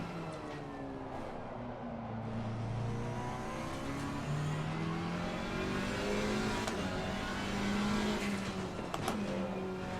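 A GT4 race car engine in the racing game Assetto Corsa Competizione revs and climbs through the gears, a loud continuous drone rising and falling in pitch with shifts and brief tire squeal, close and steady throughout.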